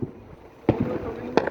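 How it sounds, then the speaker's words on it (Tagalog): Fourth of July fireworks burst in two sharp, loud bangs about 0.7 seconds apart, over a rainy outdoor background with people talking between the blasts. "Yeah, the fireworks and rain."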